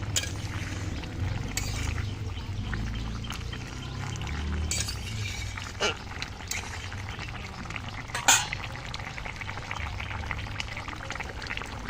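Spoon stirring bottle gourd and puti fish curry in a pan, a steady low scraping and mixing with a soft sizzle and a few sharp clinks against the metal, no talking.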